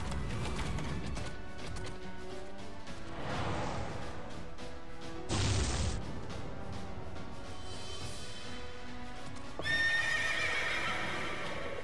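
A horse boss in the video game Nights of Azure neighs loudly and repeatedly, with clattering hoof clip-clops and crashing impacts mixed among game music and effects.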